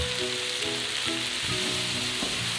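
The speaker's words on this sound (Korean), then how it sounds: "자른 토마토와 양파를 조리하겠습니다. 재료의 수분을 날리기 위해 센 불에 바싹 조리하겠습니다." Chopped tomatoes and onions sizzle hard in olive oil over high heat, a steady dense frying hiss running close and loud throughout, with faint occasional stirring scrapes.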